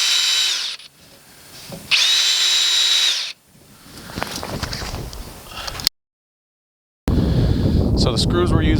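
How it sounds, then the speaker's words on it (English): Two bursts of a high-pitched power drill whirring, pre-drilling holes for drop shade head rod clamps, each lasting over a second, followed by rustling handling noise and wind buffeting the microphone. "Go ahead and pre-drill."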